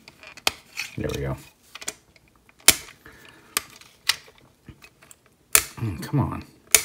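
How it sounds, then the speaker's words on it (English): Sharp plastic clicks as a finger taps a small fold-out ramp part on a DX9 War in Pocket X-34/B transforming robot toy, several crisp close taps spaced irregularly with brief handling noise between them. "You can hear my finger clicking on it."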